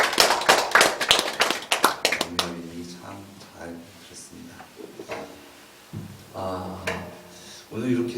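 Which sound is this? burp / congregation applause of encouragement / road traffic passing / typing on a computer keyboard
congregation applause of encouragement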